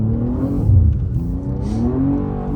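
A BMW M2 G87 engine revs on a lightly snow-covered road, a close, loud, rumbling drone that climbs and falls in pitch as the throttle is worked, with no talking.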